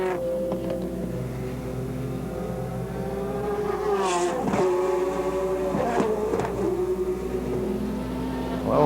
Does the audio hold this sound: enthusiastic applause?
no